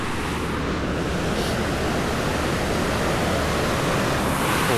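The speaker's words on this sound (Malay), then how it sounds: "Sungai dekat Whitestone camping ground ni." A river at the Whitestone campground flows with a continuous, even rush, close and loud, with some wind buffeting the microphone and no voices over it.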